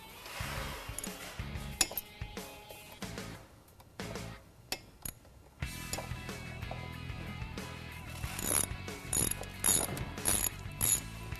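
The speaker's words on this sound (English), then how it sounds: "with pressure held onto it, you're going to want to tighten up your caliper bolts." Motorcycle brake caliper bolts on a sportbike being tightened with a ratchet, giving close bursts of rapid clicking with metallic clinks and pauses between runs.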